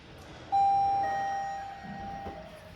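A single electronic doorbell chime rings out clearly, a bright sustained tone that steps to a second note and slowly fades, with quiet room noise behind it.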